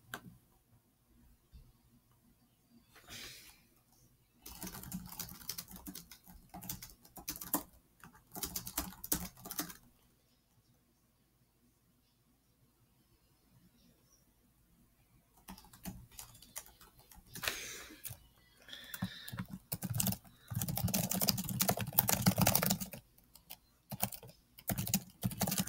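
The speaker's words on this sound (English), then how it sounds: "I'm just so great at nitro type. I'm just typing so well." Fast typing on a computer keyboard during a Nitro Type race, dense bursts of rapid key clatter coming in several spurts with quiet pauses between, close and fairly soft.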